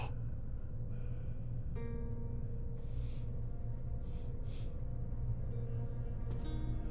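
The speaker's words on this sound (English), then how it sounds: "There's like ambient breathing in the background." Soft ambient breathing drifts under a steady low drone, with a few airy, breathy swells rising and fading at intervals in an eerie, otherwise wordless scene.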